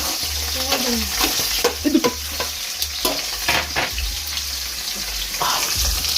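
Ground meat sizzles loudly in plenty of hot oil while being stirred, with steady close crackle and occasional scraping and clinks throughout.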